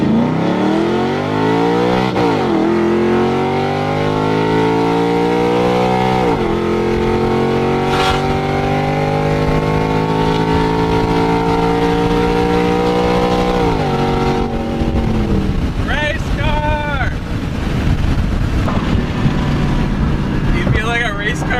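A loud Ford Mustang GT V8 engine revs hard and climbs in pitch through several shifts, with electronic exhaust cutouts open and roaring close by, ending in rough, popping throttle.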